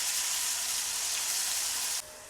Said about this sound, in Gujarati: લસણ તેલમાં સરસ કકડી ગયું છે